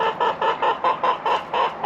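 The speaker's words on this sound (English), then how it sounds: "Chickens are wanting me to throw them some" Chickens in a garden give a rapid series of about eight rhythmic clucks, evenly spaced and fairly close.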